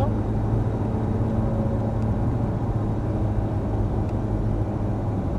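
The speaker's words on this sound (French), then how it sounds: "on accélère progressivement" Ferrari GT3 race car engine droning steadily at close range as the car accelerates progressively out of a corner on track, a continuous loud roar with a dense low rumble.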